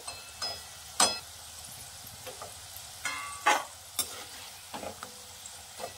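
Potatoes frying in oil in a pan for aloo palak masala, a soft steady sizzle punctuated by several sharp scrapes and clinks of a spatula at irregular intervals.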